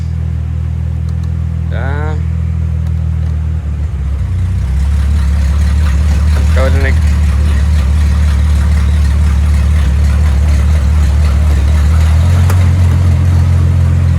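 A Mercedes SLK320 stripped down into a death kart, its engine cranking and catching, then settling into a steady, loud, close idle with a brief rev partway through, no voices over it.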